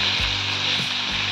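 Chopped tomatoes drop into a pan where a brinjal and dry prawn curry is frying, setting off a steady, close sizzle with a few soft stirring scrapes and no talking.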